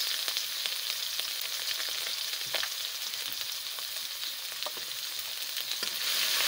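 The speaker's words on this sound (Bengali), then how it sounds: "এখন নেড়ে ছেড়ে পেঁয়াজ রসুন বাটা গরম তেলের সাথে মিক্সড করে নেব" Onion-garlic paste and cumin frying in hot oil, a dense, even sizzle with light stirring scrapes scattered through it, close and continuous, with no voices.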